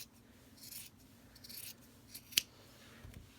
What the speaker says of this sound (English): I'm just going to cut above that and just cut straight.